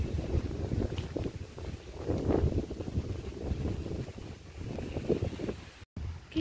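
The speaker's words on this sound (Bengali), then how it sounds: "এখানে খুব সুন্দর হাওয়া দিচ্ছে" Wind blowing outdoors around a home garden in the morning, gusting across the microphone in uneven low rumbles and buffets, moderately loud, with no talking.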